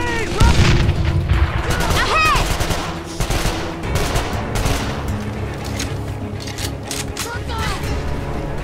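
A grenade blast tears through a Call of Juarez The Cartel firefight, a heavy boom followed by sustained loud gunfire and shouting voices over a dense, chaotic battle din.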